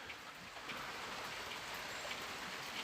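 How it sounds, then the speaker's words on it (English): Steady rain falls at an allotment, a soft continuous hiss with scattered drops pattering on surfaces, even and unbroken throughout with no voices. "it's still raining"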